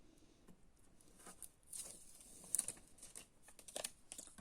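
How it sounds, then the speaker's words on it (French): Soft, crinkly rustling and light tearing as double-sided tape is peeled away, quiet and close, with scattered little crackles throughout. "maintenant, je vais enlever mon scotch double face."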